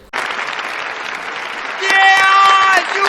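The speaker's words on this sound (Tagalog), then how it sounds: "Palakpak naman dyan mga idol" Audience applause and cheering at a live arm wrestling event, a dense crowd clapping that swells louder midway with a sharp whistle or horn tone over it before easing back.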